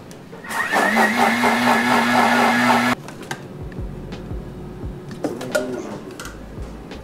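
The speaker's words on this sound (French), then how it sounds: "Là, je vais mixer pour pulvériser le truc." A kitchen blender grinds smoked paprika into a fine powder, a loud steady whirring motor for about three seconds that then cuts off, followed by quieter clinks and rattles.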